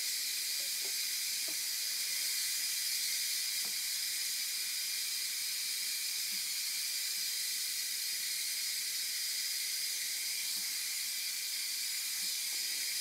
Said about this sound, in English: All the steam's coming out of here.